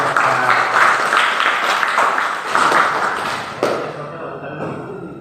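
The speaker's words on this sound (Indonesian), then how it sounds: "Beri tepuk tangan buat" Participants at a teamwork training session clap in a dense burst that fades after a few seconds, with a few thumps and voices coming through near the end.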